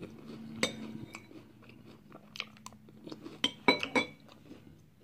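Crunchy Frosted Brown Sugar Cinnamon Pop-Tarts cereal being chewed close up, with sharp irregular crunches and clinks of a spoon against a bowl over a few seconds, no talking.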